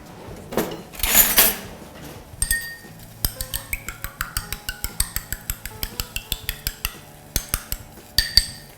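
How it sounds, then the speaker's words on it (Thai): A spoon clinks rapidly and rhythmically against a bowl, whisking chicken eggs in a steady run of sharp taps after a few louder kitchen clatters. "ไข่ไก่ค่ะ ตีซะหน่อยนึงจริงเอาช้อนมา"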